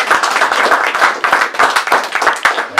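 Audience claps loudly and close at a book presentation for a short-story collection, a brisk burst of individual hand claps with distinct sharp strikes in an uneven rhythm.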